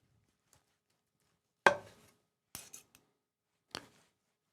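A knife cuts through a roast lamb in three short, crisp strokes, quiet and close, with silence between them and no talking.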